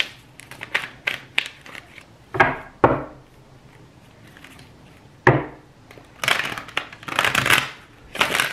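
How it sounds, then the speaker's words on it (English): Quick bursts of tarot cards being riffled and shuffled close by, several rapid flurries separated by short pauses and soft handling sounds. "Let me shuffle this deck real quick"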